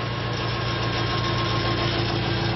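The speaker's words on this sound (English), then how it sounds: "The generator is decelerating the system" ReGenX generator running in regenerative braking mode, decelerating the system while charging a battery; a steady, loud electrical hum with constant droning tones, close and unbroken, with no talking.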